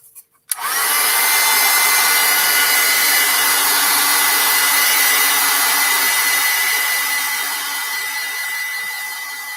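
A hair dryer runs loudly and steadily after clicking on to dry acrylic paint on a canvas, its close whooshing roar continuing alone for several seconds.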